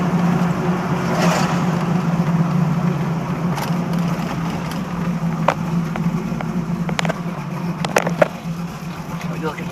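Engine of a 1969 Chevy Camaro with a 3-speed transmission, a steady low rumble heard from inside during a ride, with road noise and occasional clicks and knocks over it.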